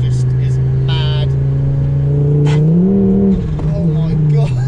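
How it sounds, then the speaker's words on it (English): A 400 bhp Ford Focus ST with an X37 turbo accelerating on a wet road, its exhaust droning loudly and rising in pitch, with intake whooshes and brief pops over the engine. "The sound of the exhaust is insane."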